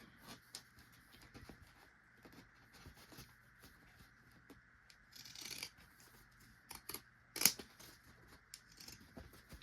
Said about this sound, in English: Now you're going to trim with your baking shears